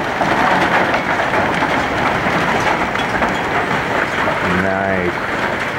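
Large hail pours down in an intense Lincoln, Nebraska storm, a dense, loud rattle without letup, with a voice cutting in briefly near the end.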